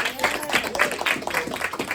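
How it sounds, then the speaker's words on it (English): A crowd at a community safety meeting in a conference room claps in a quick, uneven patter, with voices murmuring underneath the applause. "Give a round of applause for cream."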